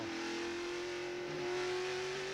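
NASCAR trucks race at North Wilkesboro, including Mike Bliss's Ultra Wheels truck, with a steady engine drone holding one sustained pitch as it rises slightly, heard continuously at moderate distance with no talking.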